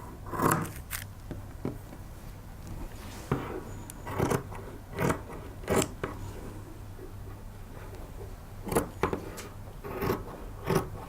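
Scissors snipping through blend wool fabric while detailed skirt pieces are cut, quiet close-up crisp cuts in irregular bursts with short pauses between them.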